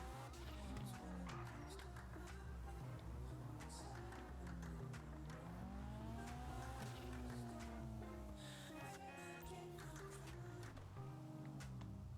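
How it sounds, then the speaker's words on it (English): Armored car in the GTA video game driving with a continuous engine drone whose pitch swells and falls as it accelerates, with occasional knocks and scraping over steady road noise. "Armored car. I can drive through everything."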